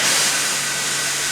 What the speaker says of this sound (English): Henry let off steam.